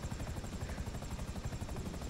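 A helicopter in the video game GTA beats its rotor in a fast, steady thumping rhythm, loud and close with no other sounds.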